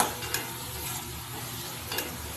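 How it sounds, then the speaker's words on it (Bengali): Spices with coriander and cumin are sautéed in a pan for a dal chorchori, producing a close, steady crackling sizzle with a couple of brief stirring scrapes. "ধনে জিরে সব দিয়ে ভালো করে কষিয়ে নিচ্ছি"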